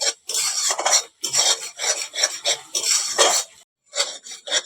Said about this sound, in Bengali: আমের কাঠটা না কড়াই ধরে যায়, এইভাবে অনবরত নাড়তে থাকবে।